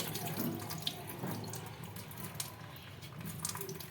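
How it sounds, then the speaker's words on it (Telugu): Water poured off soaked rice before grinding, a steady rushing splash like a tap running into a sink, continuous and moderately close for the whole stretch with no talking. "వాటర్ అనేది మొత్తం వంపేయాలండి వాటర్ ఉండకూడదు"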